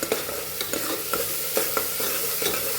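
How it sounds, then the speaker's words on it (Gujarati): Spice masala frying in a pan for a guvar (cluster bean) gravy curry, a steady loud sizzle with a spoon stirring and scraping through it at regular beats, close and continuous with no talking. "તો મસ્ત એવો આપણે મસાલાને સાતળી લેવાનો છે"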